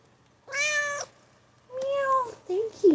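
Pet cat named Miss Hattie meowing at home, two clear drawn-out meows close by with a pause between, followed by a shorter chirping sound, alone and fairly quiet.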